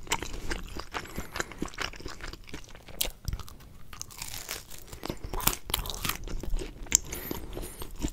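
Crunchy, thin-crusted Chuck E Cheese pepperoni pizza being chewed up close, with repeated crisp crunches and wet mastication in an irregular rhythm and no talking.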